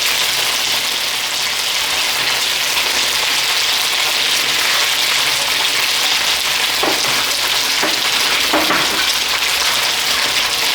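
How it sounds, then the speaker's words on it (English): Lamb chops and chopped onion sear in oil in a hot pan, giving a loud, continuous close sizzle and crackle. Brief scraping stirs break through the steady frying near the end. "you just let it slowly pan sear the lamb chops with the onion slowly here"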